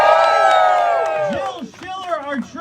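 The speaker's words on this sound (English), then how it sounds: "Let's give them a round of applause" Crowd at a women's march cheering and whooping in applause, a loud burst that fades over a couple of seconds, with a voice speaking over it.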